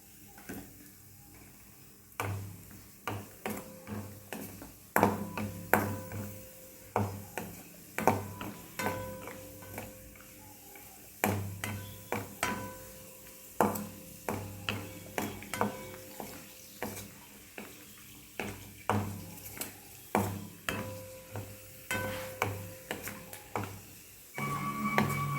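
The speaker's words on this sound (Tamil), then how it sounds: "இப்போ முந்திரி கொஞ்சம் போட்டு வறுத்துக்கலாம்" Cashew nuts roasting in a pan while being stirred, giving repeated scraping and clinking strokes with a soft sizzle underneath, steady and close for the whole stretch.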